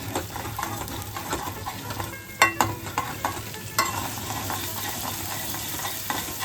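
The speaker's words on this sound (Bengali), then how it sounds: "মশলাটাকে এবার আমরা ভালো করে কষাবো।" Turmeric, salt and Kashmiri chili powder sautéing in oil in a pan for a no-onion, no-garlic paneer masala, a steady close sizzle broken by a few sharp clinks and scrapes of a spoon stirring, with no talking.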